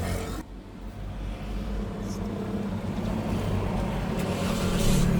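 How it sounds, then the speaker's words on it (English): A car engine turns over and runs with a steady low rumble, growing slightly louder toward the end, after a brief click at the start. "Start the engine, guys."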